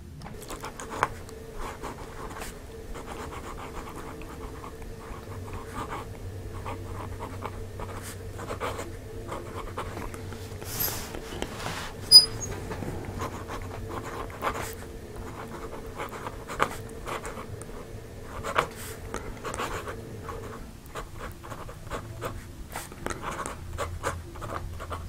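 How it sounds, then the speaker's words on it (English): Early-1900s Monogram fountain pen nib scratching across paper, faint soft strokes and light ticks spread irregularly over a quiet background hum, close, no talking. "So we'll arrange this and we'll start writing."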